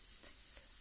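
Paneer cubes are coated in masala and fried over medium heat for paneer curry, giving a soft, steady sizzle with a couple of faint stirring scrapes, close but quiet and brief.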